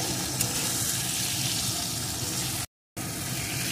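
Potato, cabbage, turmeric, salt and slit green chillies sautéing in a pan for a cabbage curry, producing a continuous close sizzle that cuts out abruptly for a moment before resuming.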